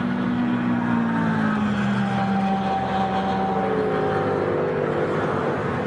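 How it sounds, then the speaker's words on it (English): A Porsche race car engine whistles at high RPM during a race, a continuous loud rising and falling drone with thin whining tones, steady throughout. "that Porsche is something else, the way it whistles along"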